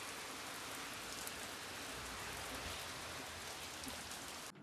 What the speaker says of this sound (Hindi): उसको बहुत मोटी बारिश लग गई है, देखो